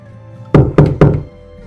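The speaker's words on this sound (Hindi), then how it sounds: "तभी किसी ने हवेली का दरवाजा खटखटाया।" Three quick, evenly spaced knocks strike a wooden haveli door, close and solid, with a short hollow resonance after each and silence around them.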